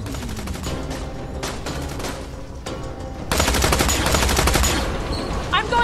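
Gunfire in the video game Tales from the Borderlands, a loud sustained burst of shots that intensifies midway, mixed with game sound and music.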